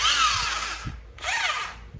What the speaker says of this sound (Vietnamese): Số 5 là một con khoan con đầu kẹp 6 ly nhá. Đây các bác này, khoan này dùng gia đình thôi nhá.